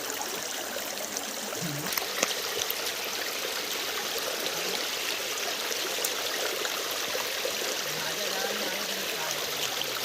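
A large river in the Konkan countryside streams steadily, a broad continuous wash of flowing water lasting throughout, with faint voices in the background.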